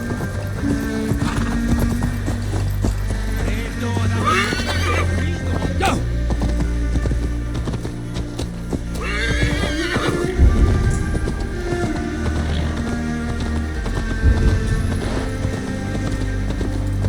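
A horse in the video game Assassin's Creed Valhalla gallops with steady clip-clop hoofbeats and lets out loud whinnies, set against game music and ambience.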